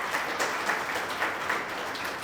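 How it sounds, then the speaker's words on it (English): Audience applause for parents at a design school induction day, a brief wash of steady clapping with soft rhythmic pulses, moderately loud with no voices. "A huge round of applause to our own parents."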